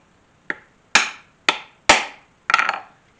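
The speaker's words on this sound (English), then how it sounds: "Grab a cap, push it down snug on the rivet," Setting a rivet and cap on a leather chain wallet: five sharp, separate hammer strikes about half a second apart, close and loud, the last one slightly doubled, with quiet between blows.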